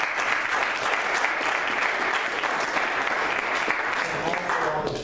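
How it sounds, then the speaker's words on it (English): A church audience at a Christmas program applauds with dense, sustained clapping that stays loud and even throughout, with faint voices mixed into the crowd noise. "So let's give them a round of applause."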